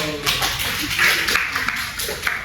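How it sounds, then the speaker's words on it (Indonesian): A classroom of students applauds a classmate during a teaching-practice lesson, with a dense, steady patter of many hands clapping at once for a couple of seconds at moderate loudness. "beri tepuk tangan dulu"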